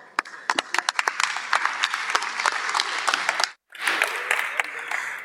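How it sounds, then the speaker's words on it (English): Audience applause at a DockerCon tech conference talk, a dense wash of many clapping hands with sharp individual claps standing out, breaking off briefly before swelling again. "a round of applause for Bruno and enjoy the last talk."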